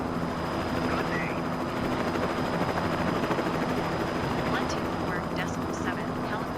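Steady, close rotor and engine drone fills a helicopter cabin while flying over Key West, Florida. Radio voices talk throughout on top of it.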